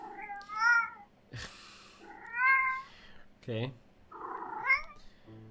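A cat meows several times in separate drawn-out calls with a brief purr, close and clear, while a voice briefly speaks between them.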